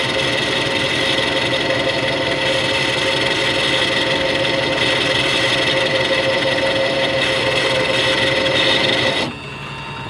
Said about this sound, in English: I've never pushed this lathe this far